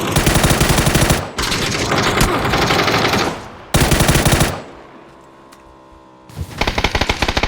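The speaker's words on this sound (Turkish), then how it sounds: "Aha Başka birilerini vurdu bu herif" Bursts of rapid automatic machine gun fire in the battle royale shooter PUBG, loud and close, coming in several long volleys separated by short pauses, with a quieter stretch of lighter shots and game ambience in between.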